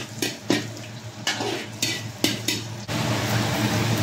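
Onion and squid sautéing in a hot pan for adobong pusit, with a steady sizzle and several scraping stirs of a utensil against the pan, close and loud, with no voices.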